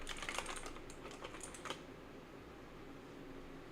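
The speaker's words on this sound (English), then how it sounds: "This is my work keyboard or coding keyboard." Typing on a low-profile wireless computer keyboard, with quick soft key clicks clustered in the first half and then fading to a quiet background hum.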